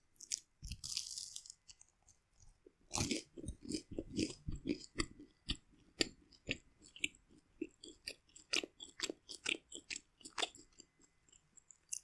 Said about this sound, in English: I'm going to have a piece of toast.